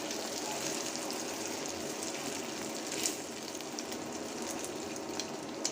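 An egg fries in a pan, giving a dense, even sizzle close by, with a few small pops and spits over a steady crackle.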